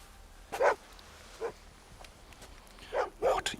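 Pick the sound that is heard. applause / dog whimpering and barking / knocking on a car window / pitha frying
dog whimpering and barking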